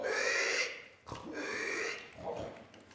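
A pig oinking in a puppet show, given as a performer's voice imitating the animal: three nasal, grunting snorts with short gaps between them, close and fairly loud.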